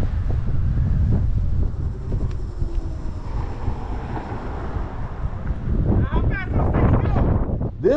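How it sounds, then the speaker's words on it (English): Strong headwind buffets the microphone while riding a Currus NF Plus electric scooter, a loud continuous low roar of wind noise that briefly eases before swelling again, with people's voices rising near the end. "I'm riding in the headwind"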